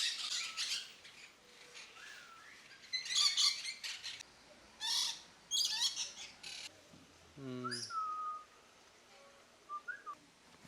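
Mixed parrots and small birds such as macaws, conures and lories call in an aviary cave, with sharp squawks and whistles in scattered bursts over a faint background of chatter.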